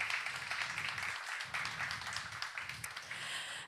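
A crowd at a startup acceleration program demo day claps continuously for several seconds, a dense patter of applause fading slightly at the end, heard from a distance.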